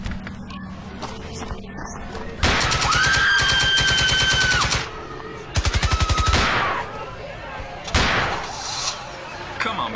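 Bursts of gunfire in a Cold War-themed radio drama, with a long rapid volley, a second shorter burst and a few single shots, loud and close, with brief voices between them.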